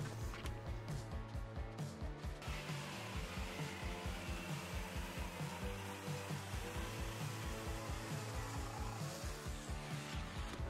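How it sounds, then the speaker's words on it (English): A belt sander smooths jigsaw-cut wood curves for a truck bed camper build, a steady loud motor whine with rhythmic pulsing as the wood is pressed against the belt, no talking. "I took it over to my belt sander and cleaned everything up"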